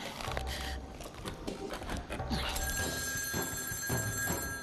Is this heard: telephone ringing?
yes